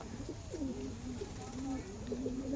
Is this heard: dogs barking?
no